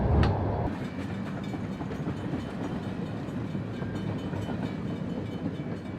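A Trans-Siberian Railway train rumbles along, heard from inside a first-class coach: a dense, continuous roar of wheels and carriage noise, with a brief knock at the start and a faint rhythmic clatter beneath.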